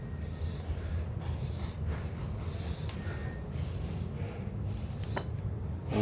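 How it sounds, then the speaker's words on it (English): Heavy, rasping breathing from a man recovering after a one-mile run carrying a 35-pound pack, close and steady over a low background rumble. "if you can hear him in the background, he's breathing. He's huffing it."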